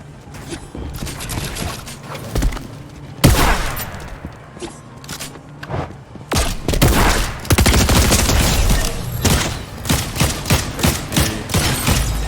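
Rapid gunfire from a lock-on gun in a video game, with loud bursts and sustained volleys that end in a string of sharp, evenly spaced shots, with no talk over them.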